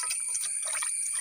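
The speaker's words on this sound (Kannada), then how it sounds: "ಇವಾಗ ನಾನು ಆ ಕೇಪಲದ ಹೂಗಳನ್ನು ಚೆನ್ನಾಗಿ ನೀರು ಹಾಕಿ ತೊಳ್ಕೊಳ್ತಿದ್ದೇನೆ" Water running over kepala (ixora) flowers being washed in a bowl, a faint, close trickle and splash with no talk.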